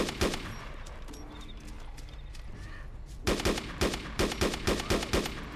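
Video game gunfire in a mosque assault: scattered distant shots early, then a rapid, loud burst of repeated shots in the final two seconds.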